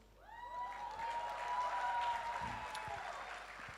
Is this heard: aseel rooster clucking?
no